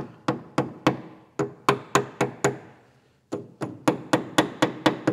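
Sharp hammer strikes tap a Jeep Cherokee rear suspension part into place, about fifteen loud, close metallic blows in two quick rhythmic bursts separated by a short pause.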